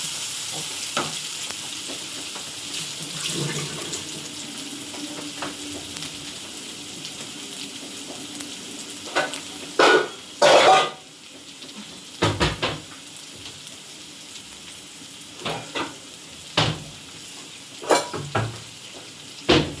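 Sliced onions sauté with salt in a pan, giving a steady close sizzle broken by repeated scraping stirs and clattering knocks of the spoon.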